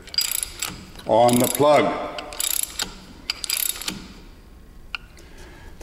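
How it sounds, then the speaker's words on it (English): Metallic ratcheting and clicking as the three-roll chuck is adjusted against the weld roll plug in the weld box of a tube and pipe mill, in short bursts with a brief spoken phrase in between. "adjust, in this case, the three-roll chuck until you feel resistance"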